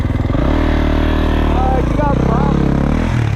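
A 2024 Kawasaki KX450X dirt bike engine revs hard and steadily for a wheelie, a loud, close drone that swells and climbs in pitch without letting up, with brief voice sounds over it.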